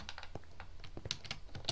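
Quiet, quick keystrokes on a computer keyboard tap in an irregular run of close, light clicks with no talking.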